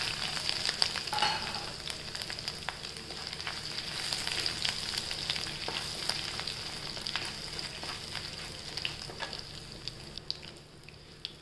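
Squid roast sizzling steadily in a pan with onion, tomato and ginger-garlic paste, a continuous dense frying hiss with scattered crackles and stirring scrapes throughout, close and alone with no talking.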